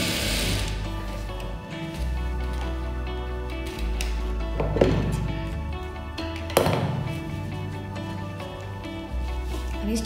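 A sewing machine runs while stitching gathers on a puff sleeve, giving a continuous mechanical whir with a low motor hum. Two brief sharper clicks stand out partway through.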